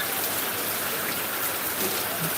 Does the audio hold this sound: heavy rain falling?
yes